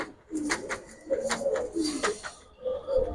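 Racer and high-flyer pigeons cooing close by in a loft, several soft rolling coos in short bursts one after another, with a little faint chirping between them.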